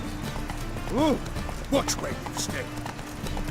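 Roach the horse gallops in Witcher 3, her hooves clip-clopping under a voice, with a brief whinny-like call and background game sounds.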